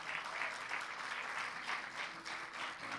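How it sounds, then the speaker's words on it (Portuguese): A church congregation applauds steadily in a sanctuary, a full continuous patter of many hands clapping at moderate distance with no speech over it. "Quem pode dar um aleluia aí e um aplauso bem forte ao Senhor por isso?"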